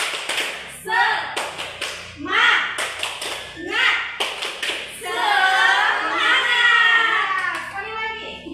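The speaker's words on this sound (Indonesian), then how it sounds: "Kita akan melakukan tepuk semangat" Children in a classroom perform a rhythmic 'tepuk semangat' clap chant, sharp clustered claps in short bursts alternating with shouted group chanting, close and lively.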